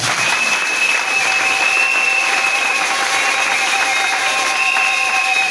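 A church congregation applauds during a Sunday service, dense sustained clapping from many hands filling the room at a steady level, with a high tone ringing faintly underneath.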